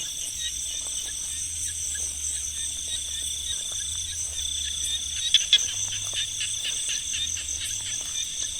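Frogs call steadily from a rice field, with a dense, continuous chorus of shrill trilling that sounds close by and even, plus a low pulsing hum beneath it. No voices are heard.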